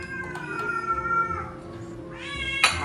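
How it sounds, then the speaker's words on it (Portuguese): A grumbling house cat meows and mutters repeatedly at close range in a home, with its drawn-out complaints rising near the end and no clear speech over it. "Meu Deus, que gato que resmunga."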